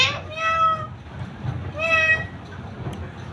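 A pet parrot imitates a cat's meow, giving two drawn-out nasal meow calls close by, with a person talking softly underneath.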